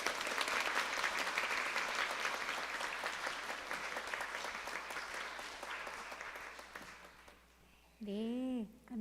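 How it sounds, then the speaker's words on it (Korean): A church congregation at a Korean Mother's Day Sunday morning service applauds warmly to welcome a guest speaker, a dense burst of clapping that slowly fades, followed by a brief voice near the end. "여러분들 나오실 때 뜨거운 박수로 환영해 주시고"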